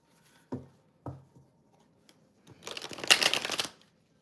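A tarot deck riffled and shuffled, two short soft flicks followed by a dense, crisp burst of rapid card flutter, close and alone.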